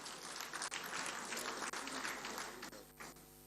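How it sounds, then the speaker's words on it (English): An audience at a public lecture in honour of a retired general claps in sustained, fairly distant applause that thins out toward the end. "Another round of applause for him."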